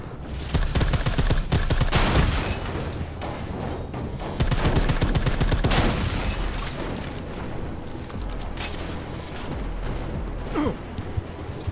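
Heavy gunfire in Deus Ex: Mankind Divided, with rapid automatic bursts and scattered shots, loud and dense, in a prison setting with mechanical game noise underneath.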